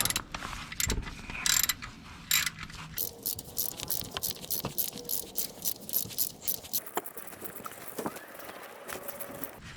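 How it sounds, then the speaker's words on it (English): Ratcheting clicks from a spanner with an X45 socket tightening the oil drain bolt on a petrol Opel/Vauxhall Astra H, a run of close mechanical clicks and taps with no talk. "Now using the spanner and the X45 socket, tightening up."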